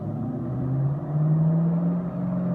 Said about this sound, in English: So unreal to see this car driving around like that